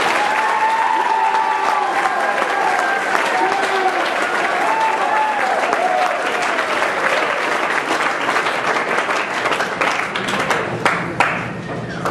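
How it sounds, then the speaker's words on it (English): Audience applause fills a JROTC change-of-command ceremony, steady dense clapping sustained throughout with faint voices and cheers mixed in. "Everybody give them a round of applause."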